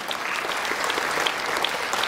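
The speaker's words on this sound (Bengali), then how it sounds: "জোরে হাততালি" Loud, dense applause from an audience at a prize distribution function in Kolkata, a continuous wash of many hands clapping at once, with no speech over it.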